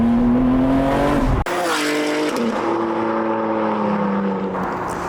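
A BMW G80 M3, rear-wheel drive with around 700 brake horsepower, drops a gear with a sharp shift crack, then its engine howls loudly up through the revs, close and alone.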